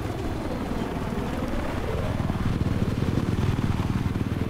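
A helicopter in the video game Battlefield 4 thumps steadily nearby, loud rotor chop and engine whine filling the whole moment without speech.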